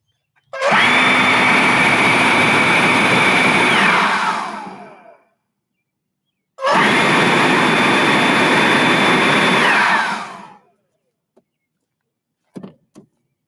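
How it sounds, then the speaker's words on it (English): An electric fan blows air at a small wind turbine propeller, roaring and whirring loudly in two separate bursts of about four seconds each, winding down after each one, with a few faint clicks at the end. "the wind was spinning this turbine, this propeller"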